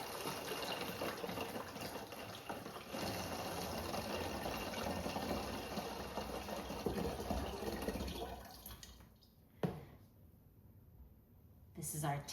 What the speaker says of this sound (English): we're going to fill up a 3rd gallon